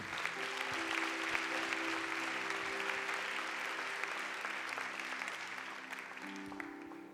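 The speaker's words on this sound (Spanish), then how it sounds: "Yo le daría un aplauso al Señor por eso." A church congregation at a youth service claps together in a dense, sustained round of applause that stays full for several seconds before thinning slightly, with a faint voice or tones underneath.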